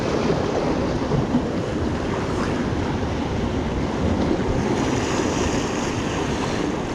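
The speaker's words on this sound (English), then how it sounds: "We're getting splashed by these waves." Sea waves splash at the shore during winter float fishing, a loud continuous wash of surf mixed with wind buffeting the microphone, steady throughout with no talking.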